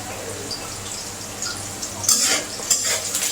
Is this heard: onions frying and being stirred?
yes